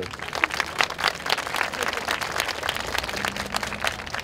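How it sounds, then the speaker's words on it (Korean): Audience applause for students during a Korean emergency debate forum, a steady mid-level wash of clapping across the whole stretch with a faint voice surfacing briefly near the end. "학생들에서 박수."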